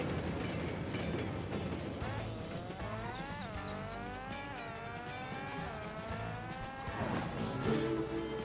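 A train in the racing video game Cars 3: Driven to Win, a long wavering horn-like tone that slides up and down over continuous race noise, fairly loud and near.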